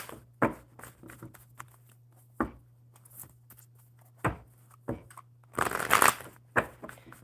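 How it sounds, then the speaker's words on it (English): A deck of tarot-style cards shuffled by hand, with soft riffles and brisk bursts of flicking cards at irregular intervals over a low steady hum, close and clear, ending in a denser flurry of shuffling. "One more good shuffle."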